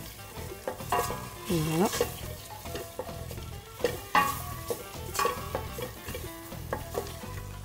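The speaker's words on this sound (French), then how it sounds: "Et on vient mélanger le tout." Tomato paste stirred into chicken frying in a pan for a North African chtitha, with steady sizzling and scraping strokes of the spoon, close and fairly loud, with a brief spoken word.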